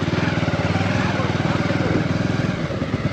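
A motorcycle engine idles close by with a steady, low, throbbing rumble that holds even throughout.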